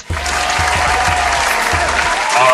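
An applause sound bite plays as a loud, dense burst of clapping and crowd cheering that starts abruptly and continues steadily, with slight voices mixed in.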